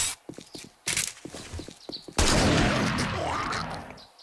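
Gunfire in 7 Days to Die Alpha 20, a few sharp shots at the start and then a long, loud, dense stretch of noisy fire that runs almost to the end.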